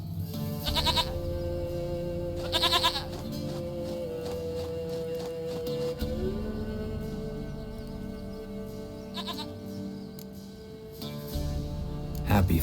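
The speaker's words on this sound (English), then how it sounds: "Goat of mine, dearest, sweetest goat." Goat bleating in The Witcher 3, several short wavering bleats mixed with horse hooves clip-clopping and other game ambience, fairly close.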